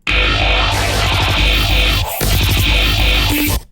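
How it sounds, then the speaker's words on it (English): A dense, loud music loop swept by a bandpass filter, its tone swirling and shifting continuously, with a brief dip in the middle before resuming. "So the bandpass filter sounds like this."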